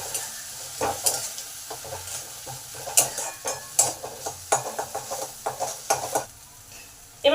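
Onion frying with ground pointed gourd seed paste in a pan, a spatula stirring in irregular scrapes and knocks over a soft sizzle, close by with no talking.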